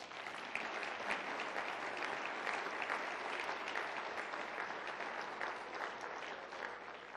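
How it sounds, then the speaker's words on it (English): An audience at a community breakfast gives a sustained round of applause, with even, dense clapping that holds steady throughout at moderate distance. "One more round of applause."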